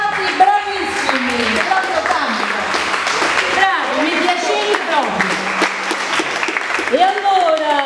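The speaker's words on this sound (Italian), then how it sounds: "entrate per un grande applauso ai musicisti" An audience at a nautical club evening event applauds the musicians, scattered clapping running steadily beneath someone speaking loudly in Italian over a microphone throughout.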